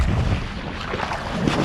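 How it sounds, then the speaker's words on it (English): Steady wind buffeting an outdoor microphone, a continuous low rumbling roar filling the whole stretch with no pauses. "Now the wind's dropped."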